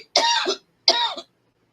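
Two short, dry coughs from a woman with an allergic cough, close and loud, each lasting under half a second with a pause between them.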